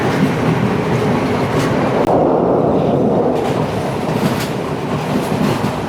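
A Sri Lankan coastal train out of Colombo runs along the Indian Ocean at about 53 km/h, its wheels clacking rhythmically under a loud, steady rumble of carriages heard from on board, with no speech.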